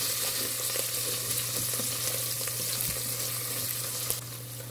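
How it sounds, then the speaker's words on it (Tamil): Green chilies, mint and coriander sauté in a pan for biryani, giving a steady, close, even sizzle with a few faint stirring clicks and no talk. "இது ஒரு 2-3 நிமிஷம் வரைக்கும் நல்லா வதக்கி விட்டுக்கலாம்."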